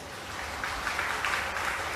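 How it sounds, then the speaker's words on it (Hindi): An audience clapping at a Hindu satsang, a dense patter of applause rising slightly and holding steady for a couple of seconds. "तालियां तो बजाते हो"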